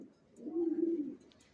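Young Johnson-line racer pigeons give one soft, low coo that swells and fades within about a second, faint against near silence.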